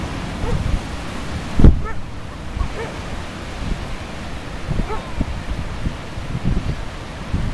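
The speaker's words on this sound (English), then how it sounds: "Here comes some more waves into the river." Storm waves surge into the flooded Chetco River at high tide, a rushing, churning roar of water with gusting wind. A sharp bump sounds early on and a person speaks at times.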